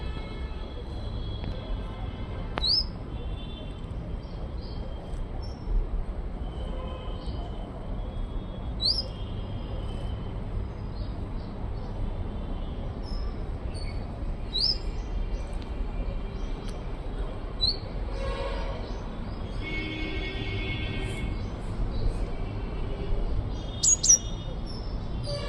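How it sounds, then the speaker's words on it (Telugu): Small birds chirp and tweet in a home mini garden with tomato, brinjal, mango and lemon plants, brief scattered calls repeating over a steady low background hum. "పక్షులు కూడా ఉన్నాయి చూడండి."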